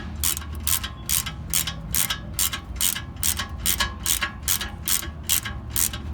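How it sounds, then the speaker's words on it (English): A ratchet wrench and socket tighten rear brake bolts on a BMW M3, giving a close, loud, rhythmic series of evenly spaced clicks that continues for about six seconds. "you can kind of take your wrench, your socket, and you can just tighten this all back up."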